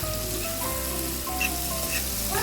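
Seasoning sizzles and crackles steadily in a hot pan, cooking down as the base for Jamaican curry fish, with a continuous close frying hiss and occasional small pops.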